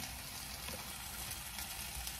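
Italian sausages and peppers sizzle in a pan on a stovetop, giving a soft, steady frying crackle with no pauses or voices.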